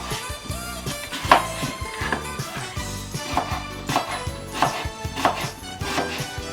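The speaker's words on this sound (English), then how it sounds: "So I'll just cut the apple in very small pieces." A knife chops an apple into small pieces on a cutting board, a steady run of sharp close taps repeating in quick bursts over soft background music, no voices.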